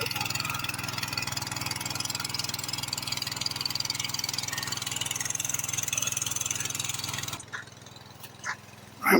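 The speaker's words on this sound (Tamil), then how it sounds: "சூப்பராக இருக்குது பெட்ரோல் வாட்டர் பம்பு" Small 5 HP petrol water pump engine running steadily outdoors by a field with a droning, rattling hum for most of the stretch, then cutting off abruptly, leaving quieter background with a few faint noises.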